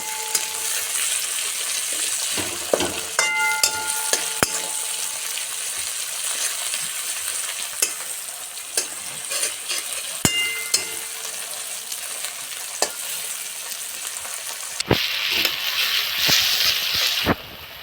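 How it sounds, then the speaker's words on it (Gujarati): Tomato and onion sautéing in a pan for bataka pauva, a continuous close sizzle broken by spatula scrapes and metallic clinks, with louder crackling near the end and no talk. "તો એમાં નાખીશું આપણે ટામેટું, ટામેટાને પણ થોડુંક શેકી લઈશું"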